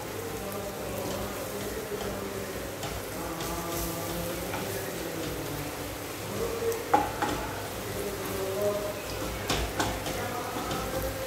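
Masala fries in a pan while being stirred and mixed, with a continuous sizzle, occasional scraping and clinks of the utensil, and a faint voice in the background.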